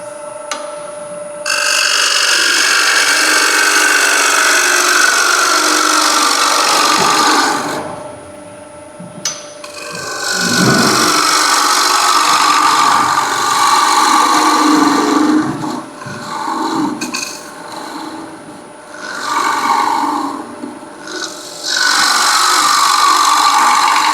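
Wood lathe hollowing green wood with a sharp tool: loud, hissing cutting noise over the humming spin of the lathe, breaking off briefly several times before the cutting resumes.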